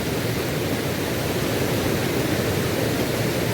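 Water rushes forcefully at Bhivapur Lake in Amravati, a loud, steady, unbroken roar of broadband noise that holds its level throughout, with no voices.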